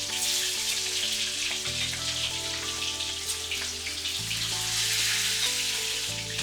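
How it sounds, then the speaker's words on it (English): Eggs frying in hot oil in a karhai for Bengali egg curry, a steady crackling sizzle running throughout, loud and close, with no voices. "Next, to fry the eggs, we will heat oil in a karhai. Now we'll add the eggs into the karhai."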